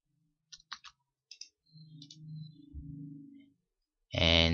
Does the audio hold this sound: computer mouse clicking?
yes